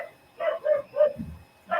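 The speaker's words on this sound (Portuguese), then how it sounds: "É o cachorro do Carlos que tá revoltado. O lixeiro tá passando e minha cadela fica louca" A dog barks in several sharp, close bursts as a garbage collector passes by, the barks coming in an uneven rhythm with a brief growl-like rumble between them.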